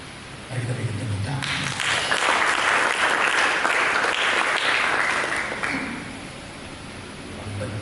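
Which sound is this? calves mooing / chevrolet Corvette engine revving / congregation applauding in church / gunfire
congregation applauding in church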